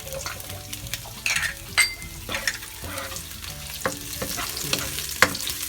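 Onions sautéing in a pan as the base for a clam soup, a close crackling sizzle broken by repeated stirring scrapes and light utensil clinks against the pan, no one talking.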